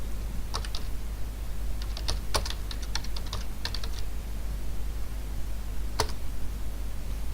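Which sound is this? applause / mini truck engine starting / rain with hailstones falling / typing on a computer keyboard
typing on a computer keyboard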